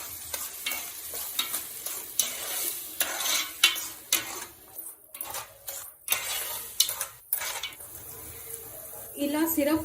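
Sugar syrup with dry fruits bubbling in a pan while cardamom powder is stirred in, a close crackling sizzle broken by spoon scrapes and taps against the pan.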